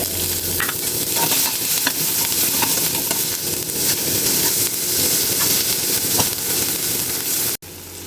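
Ginger and onion sizzle loudly in a hot pan while being stirred, a steady frying hiss with scraping stir sounds running continuously, then a brief sharp break near the end.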